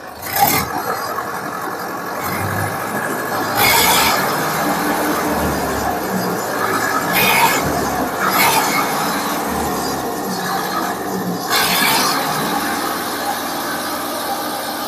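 A Zetor 5511 tractor engine runs steadily at close range, a loud continuous diesel drone with a few brief louder surges, no talking over it.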